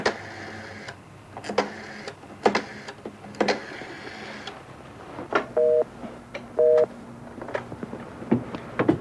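A telephone call being placed on a mid-1980s line: push-button keys clicking and a pair of short electronic tones, with hums and a printer-like mechanical buzz in the background, close and without speech.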